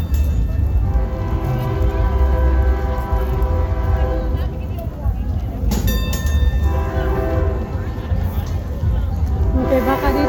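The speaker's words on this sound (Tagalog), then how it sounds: "Amtrak is it's a passenger train. It's Amtrak." An Amtrak passenger train rolls past close by, a steady loud rumble of rail cars carrying through, with a sustained multi-tone horn sounding partway along and again near the end; people talk faintly in the background.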